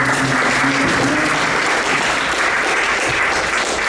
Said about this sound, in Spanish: Pido un fuerte aplauso para los tres escritores.